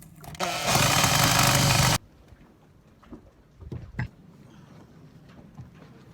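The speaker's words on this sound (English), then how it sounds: "So now I'm having to cut away most of the fiberglass that I've laid down just so I could get the backing plate back on." A power tool grinds loudly through laid-up fiberglass on a sailboat for about two seconds, then cuts off, leaving quiet handling knocks and a couple of sharp taps.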